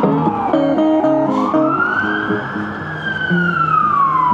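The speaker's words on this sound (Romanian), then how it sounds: "Artiști de stradă, sirenele poliției pe fundal." A police siren wails along a San Francisco street, its long rising and falling tone sweeping over street musicians playing nearby. The siren is loud and close enough to carry clearly above the music.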